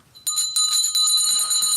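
A servant's hand bell rings close by, shaken in rapid repeated strikes that form a bright, sustained metallic jangle.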